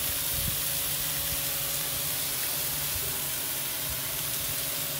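Fajitas sizzle on grill grates heated to about 400 degrees, a steady, loud hiss of searing meat that runs without a break and carries faint crackles underneath.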